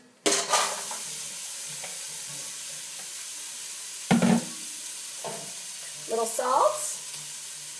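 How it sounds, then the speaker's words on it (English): Carrots and onions sizzle in hot oil with a strong, steady hiss after they drop into the pan, punctuated by a few utensil scrapes and clinks, with brief speech over it. "And then I'm going to add my carrots and onions."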